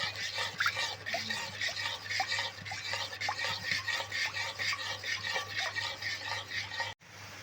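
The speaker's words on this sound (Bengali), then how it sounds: "এইভাবে এখন অনেকক্ষণ ধরে নাড়তে হবে" Mango pulp for homemade mango frooti is stirred in a pot, the spoon scraping in a steady, rhythmic back-and-forth pattern for several seconds, close and fairly quiet, ending with a brief thump.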